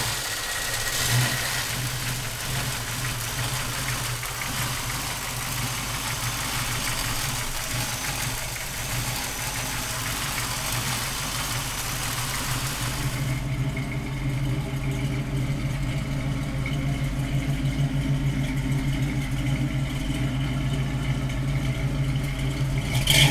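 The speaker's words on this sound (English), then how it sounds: "we're gonna fire it up for you right now" A 1970 Ford Maverick's engine runs close by, first with a rough, busy roar and then settling into a steady, throbbing idle with a low rumble for the rest of the time.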